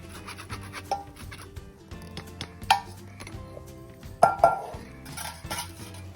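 Melted jaggery is strained in a metal pot while making Karkidaka Vavada, with close metallic scrapes, clinks and rubbing of a utensil against the pot in irregular bursts.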